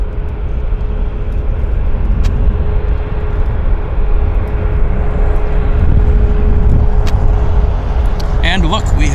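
An airliner bound for Incheon is pushed back at Vancouver Airport under a steady, droning engine and ground-equipment hum with a constant tonal whine, continuous and fairly loud, while people talk nearby.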